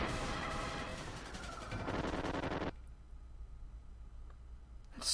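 Explosions from the Kirby Super Star video game, a loud dense burst of gunfire-like blasts for about two and a half seconds, then a cut to near-silence with faint scattered pops and a final hit at the end.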